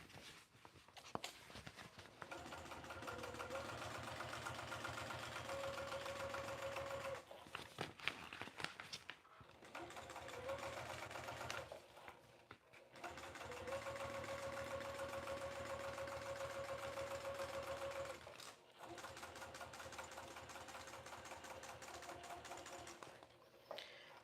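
A sewing machine back stitching a fabric jumbo bag for holding patterns runs in long steady whirring bursts, loud and close, with brief pauses and faint handling noises between runs.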